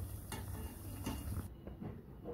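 Faint scraping and light clinks of a utensil in a frying pan as golden bottle gourd pakoras are lifted out, with a soft sizzle of oil underneath.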